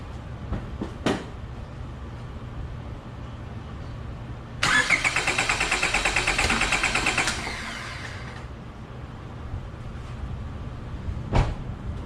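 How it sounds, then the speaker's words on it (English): A car's starter cranks for about three seconds, a steady rapid pulsing churn that never catches, with the fuel rail emptied before a compression test; quiet garage noise and a couple of clicks before and after. "So I'm now going to attempt to start the car."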